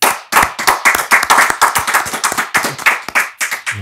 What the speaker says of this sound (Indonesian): Tepuk tangan buat Profesor Anhar Gonggong.